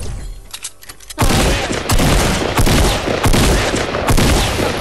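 Rapid sustained automatic gunfire fired at a llama in a video game, loud dense bursts starting abruptly after a quieter opening and continuing with short pauses between volleys.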